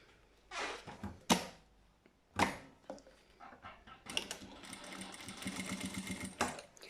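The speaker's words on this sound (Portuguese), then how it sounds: "E agora vou passar uma costurinha aqui em cima do risquinho, aqui a toda a volta da pala." A sewing machine stitches around the flap of a fabric wallet with a foam layer inside, starting with a few short bursts and then running in a steady, close buzzing whir for the last few seconds.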